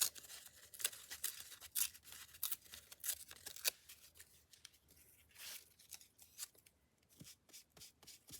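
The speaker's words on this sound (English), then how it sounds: "Tear this thinner. This is just packing paper," Brown packing paper is torn by hand into thinner strips in quiet, close bursts of crisp ripping and crinkling, with short pauses between tears and no talk.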